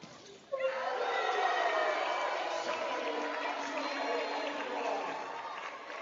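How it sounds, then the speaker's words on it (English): A volleyball match crowd against Southwest Baptist erupts suddenly into loud, sustained cheering and applause that holds steady for several seconds with a slight fade. "You love to hear the reaction from the crowd."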